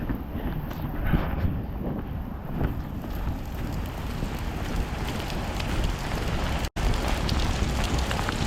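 Steady rain falling outdoors during a walk in Maine, a continuous broadband patter with wind buffeting the microphone, loud and close throughout with one brief dropout near the end.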